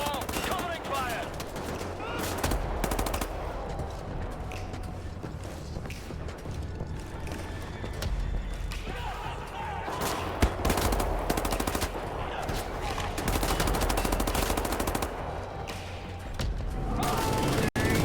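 Covering gunfire in Wolfenstein: The New Order on PC, with steady automatic bursts and shots rattling throughout, loud and close under intermittent voices.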